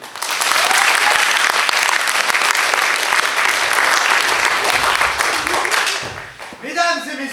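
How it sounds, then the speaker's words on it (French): Audience at a café-théâtre festival evening applauds steadily and loudly for several seconds, the clapping fading out near the end as a voice begins to speak. "Applaudissements"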